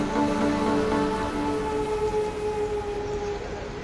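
Dondakaya pakodi batter drops into hot oil in a kadai, giving a steady rain-like sizzle and crackle close by, with a faint tonal hum underneath and no talk.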